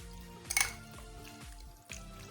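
Spices being mixed into rice in a cooking pan, with soft repeated scraping and stirring strokes, a couple of light metallic clinks, and a close, quiet kitchen hum throughout.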